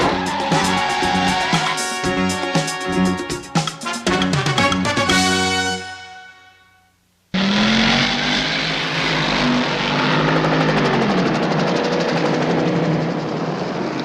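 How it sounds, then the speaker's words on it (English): Helicopter in an action scene from the Knight Rider TV series: loud, dense music gives way to a moment of near silence, then a steady, close rotor and engine roar takes over. "Get that chopper!"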